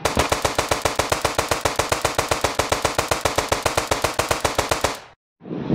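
An automatic gun in Indian Bikes Driving 3D fires rapidly at a dragon, a loud, even burst of closely spaced shots that cuts off abruptly near the end, followed by a brief silence and a final sound.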